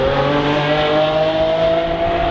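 Lamborghini engine on a Beverly Hills street, revving loud and close. A strong, sustained motor tone climbs slightly in pitch across the whole moment, with no speech.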